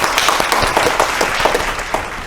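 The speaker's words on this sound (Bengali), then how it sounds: "জোরে হাততালি ওর জন্য" A studio audience at a family game show breaks into dense, loud, sustained applause for a contestant who has just sung, a continuous wash of many hands clapping close by.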